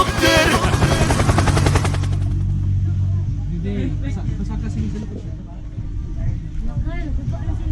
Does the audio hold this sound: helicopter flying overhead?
yes